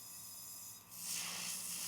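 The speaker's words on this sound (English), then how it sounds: "So spraying out the gun again" An airbrush gun sprays out paint while flushing for white nail art, a soft steady hiss that swells louder halfway through and holds as a close, continuous airy rush.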